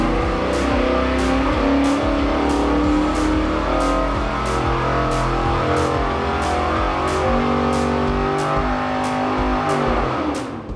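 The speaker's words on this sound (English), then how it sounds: "With the engine build complete, Evan brought it down to Westech and put it on the dyno" A Chevrolet Camaro V8 engine with a dual plane intake runs on a dyno at steady high revs, roaring continuously and close up, with a faint regular ticking throughout.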